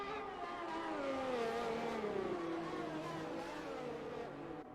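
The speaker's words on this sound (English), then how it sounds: "Both Ferraris navigate that turn 1 and 2 chicane" Two Ferrari race cars in a racing video game snarl through the Turn 1–2 chicane at Monza, engines rising and falling in pitch as they brake and accelerate, steady and fairly close with no voices.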